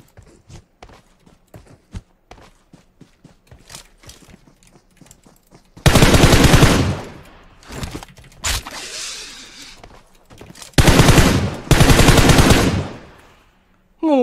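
Gunfire in a shooter video game: faint clicks and single shots at first, then loud, close bursts of automatic fire in several long volleys separated by short pauses.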